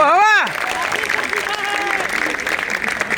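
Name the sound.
audience applauding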